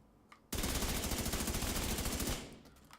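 Rapid automatic gunfire aimed at an enemy's head in the video game Division 2, a single loud sustained burst of about two seconds with closely spaced shots, then a fading tail.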